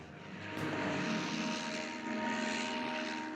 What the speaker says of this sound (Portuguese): Este aqui é para lançar aviões de reconhecimento com uma catapulta.